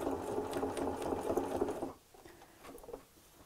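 A sewing machine runs through layers of bias tape on a tea cosy, giving a close, steady mechanical whir that stops abruptly after two seconds, leaving faint handling sounds.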